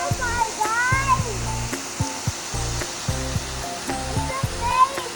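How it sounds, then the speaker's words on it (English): The waterfall at Shees Park gives a steady broadband rush that runs under music with a thumping beat and a few voices. "Look at the waterfall, guys."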